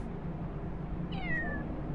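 A single short cat meow from the Zombeer video game rises faintly over a quiet, dark ambient background, with no speech.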